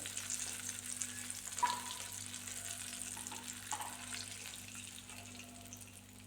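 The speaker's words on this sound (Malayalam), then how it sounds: "ഇനിയിപ്പോൾ ഇതുപോലെ നമുക്ക് ഓരോ ഉരുളകളും ബാറ്ററിൽ മുക്കിയിട്ട് പൊരിച്ചെടുക്കാം" Batter-coated sukhiyan balls deep-fry in hot oil, a close, steady bubbling sizzle with occasional sharper pops over a low constant hum.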